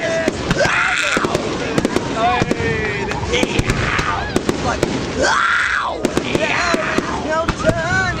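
New Year's Eve fireworks at Corowa, 2009–2010: repeated loud bursts, pops and crackles that keep going, with people talking and cheering through the display.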